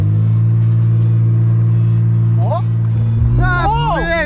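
A BMW 325's engine idles with a steady low drone, then revs sharply twice with rising and falling pitch, close and loud, while people talk nearby.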